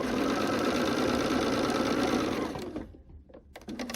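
A sewing machine stitches a quilt seam in a steady, continuous whir that runs for over two seconds, then stops, leaving a few soft clicks and handling sounds.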